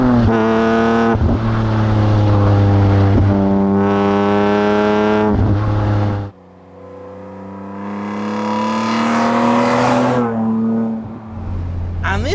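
A 2006 BMW Z4 M Roadster engine climbs through hard revs in rising, gear-by-gear pulls, loud and close, easing off between surges while someone talks over it.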